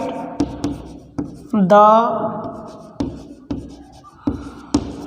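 A pen scratches and taps across paper in short, irregular strokes, close and moderately loud, while a person speaks over it.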